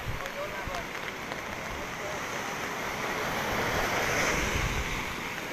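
Storm waves surge and wind roars at the shore during Tropical Storm Pabuk, with rain falling; a continuous loud, rushing wash builds slightly toward the end, with wind buffeting the microphone.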